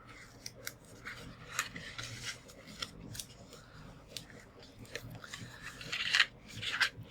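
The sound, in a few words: folding paper cardstock notepad holder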